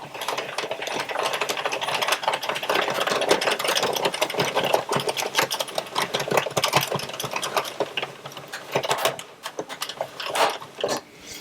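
An Addi circular knitting machine cranking through five border rows, its rapid rattling, clicking mechanism running steadily and close by for the whole stretch, easing slightly near the end, with no talk.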